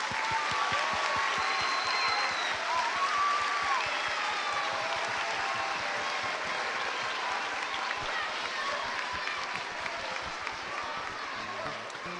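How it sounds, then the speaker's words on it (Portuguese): An audience at a school musical for the morning classes claps for the music teacher who devised the cantata, a sustained dense round of applause from a crowd with faint voices mixed in. "Palmas para ele."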